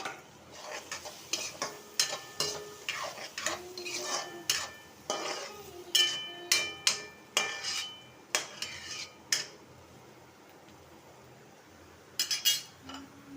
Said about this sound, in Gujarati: લીલા મરચાંવાળો ભાગ પહેલાં આપણે નાખ્યો, બધી ડુંગળી